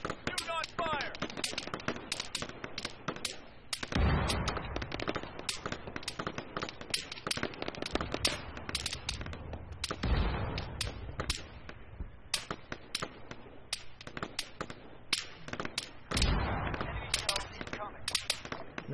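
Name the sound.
gunfire in the video game Arma 3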